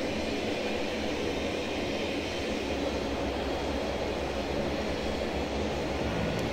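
A Dash 8 turboprop engine, number four, spinning up in a flight simulator, heard as a steady broadband roar and hum that holds constant throughout with no voices.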